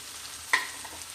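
Onion, tomato and green chillies sautéing in a pan for ghee rice, a soft steady sizzle with one sharp scrape or clink of a spoon midway, close and without talk.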